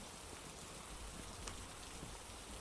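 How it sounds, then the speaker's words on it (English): Steady rain in the Phasmophobia horror game, a soft continuous patter and hiss of drops on surfaces at low volume, with no voices. "I'm not sure how loud the rain is going to be over top of my voice"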